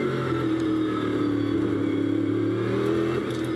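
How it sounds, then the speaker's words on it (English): GT race car from the Blancpain GT Series accelerating through a corner at Silverstone, a steady, moderately loud engine drone with the throttle held partly open and no sharp revving, continuous throughout without voices. "the way Ollie Jarvis is opening the throttle there, it sounds to me like it's not quite the slam we saw from Chris Goodwin."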